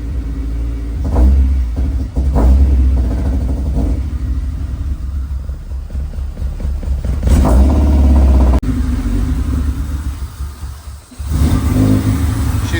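Up close, a swapped Honda B20 engine in an EK car idles roughly on the wrong ECU, its loud rumble rising in several revs and sagging as it threatens to stall; no one speaks.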